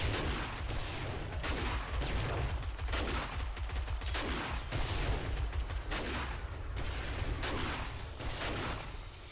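Contact grenades and dynamite explode over and over in 7 Days to Die, a dense run of loud, booming blasts and crackling bursts that keeps rolling with hardly a gap.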